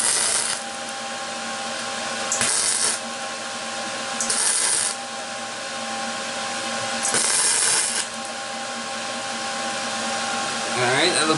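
An electric welder joins a broken metal dustpan in three or four crackling, buzzing bursts of a second or so each, separated by a quieter steady hum.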